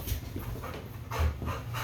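A reactive dog pants quickly and steadily at close range, with a few brief whimpers breaking in partway through.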